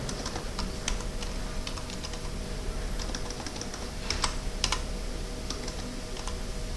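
Someone types on a computer keyboard to enter login details, giving quick, irregular key clicks over a steady background hum.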